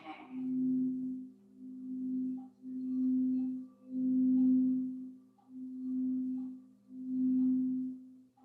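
Soft sustained meditation tones swell and fade in a slow, regular series of about seven long pulses, calm and steady with no talk over them.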